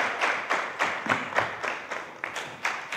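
A live audience at a barbecue show claps in a steady, pulsing wave of applause, with no voices standing out.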